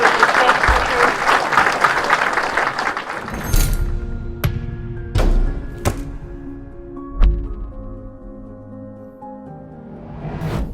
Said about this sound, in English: Another round of applause for Professor Richard Werner and our panel.